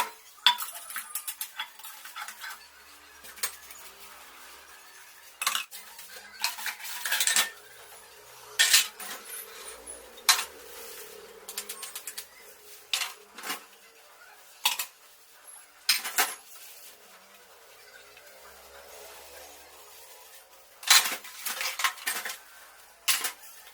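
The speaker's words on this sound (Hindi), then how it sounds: "बर्तन मैं धो रही हूँ अभी" Dishes, pots and cutlery washed by hand in a home kitchen after a meal: repeated clinks and clatters of metal utensils and vessels in irregular bursts, fairly close, with running water and no talking.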